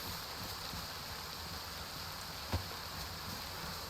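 Steady rain in the video game DayZ hissing across a wide band, constant and even, with one brief soft thump partway through; no voices.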